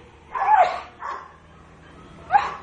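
Pet dog giving a few short barks and yips indoors, close and moderately loud, with brief pauses between them.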